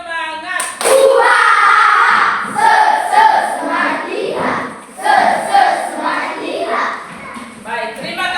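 A classroom group on their feet doing a rhythmic spirit clap, the sharp hand claps coming in counted bursts, mixed with children's voices and shouting that stay loud and close all the way through.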